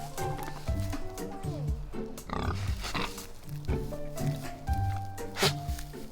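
Pigs grunt and snort repeatedly at close range, low irregular bursts mixed with rustling and shuffling movement, with occasional voices in the background.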